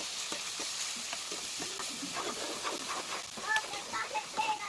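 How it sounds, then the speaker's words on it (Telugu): Tomatoes frying in ginger garlic paste for a fish curry give a steady sizzle with stirring scrapes and brief hissing bursts near the end, close and fairly quiet, with no talking. "సో మనం టొమాటో యాడ్ చేద్దాం. టొమాటో యాడ్ చేద్దాము."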